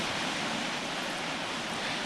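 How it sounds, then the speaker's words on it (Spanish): Rain falling steadily as a continuous, even hiss with no distinct drops, moderately loud and unbroken throughout. "Gracias a Dios por la lluvia."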